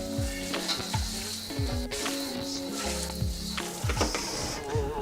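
Water hissing and sizzling as it hits a hot wok being rinsed after the frying oil is removed, a steady crackling sizzle with scraping and stirring strokes, close and fairly loud, no talk.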